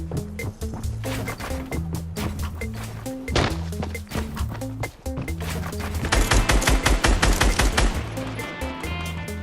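Rapid bursts of Fortnite gunfire rattle through an in-game firefight, with repeated loud volleys and denser automatic fire toward the end over a busy game soundtrack.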